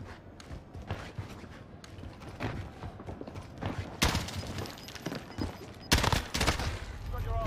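Burst-fire M rifle shots ring out in Call of Duty Warzone, several sharp loud cracks in short bursts, the strongest near the end, heard among game clatter and background noise.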